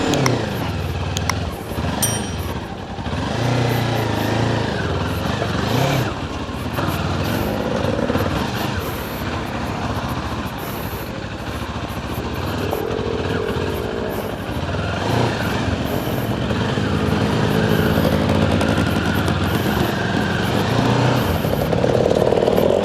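Kawasaki KLE 500 motorcycle engine running steadily throughout, a continuous low rumble that holds close and loud as the bike is ridden around on muddy ground, with no pauses or voices breaking through.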